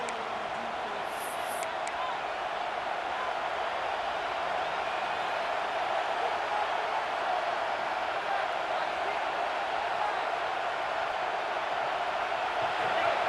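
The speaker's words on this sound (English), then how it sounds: "Here comes this home crowd as the defense tries to get off the field on third down." Steady home crowd roar from a college football stadium in EA Sports College Football 26, a broad continuous wash of noise holding constant through a third-down defensive stand, with a game commentator talking over it.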